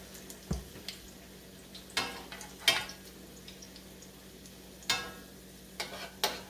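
Salmon patties fry quietly in a pan, a faint low sizzle broken by a handful of sharp utensil clicks and scrapes spread across the moment.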